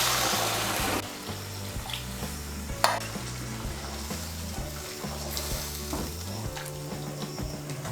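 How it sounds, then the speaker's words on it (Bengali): Water poured into a potato and pointed gourd curry in a hot pan, a hissing splash then steady sizzling and bubbling with stirring clatter, close and fairly loud, no voices. "আমি এর মধ্যে 1 কাপ আর 1/2 কাপ জল দিচ্ছি।"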